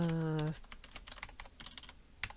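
Computer keyboard typing during sign-up for a class project web app, a quick run of close, light key clicks following a short tone at the start, with no voices.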